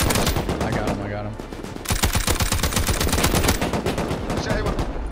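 Rapid bursts of automatic gunfire crackle in the survival game Rust during a clan raid on a tower, dense repeated shots with a brief lull, loud and close.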